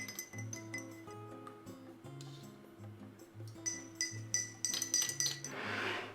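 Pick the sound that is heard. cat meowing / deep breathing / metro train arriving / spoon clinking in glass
spoon clinking in glass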